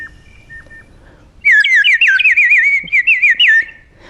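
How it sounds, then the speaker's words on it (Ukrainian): A nightingale sings close and clear, a rapid run of trilled, warbling whistles lasting a couple of seconds after faint scattered chirps. "Соловейко співає тепло, тихо."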